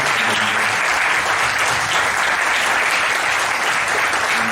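Sustained applause from an audience at a university faculty anniversary event honouring the presenters, a dense, steady wash of many hands clapping at even loudness throughout, with no voices.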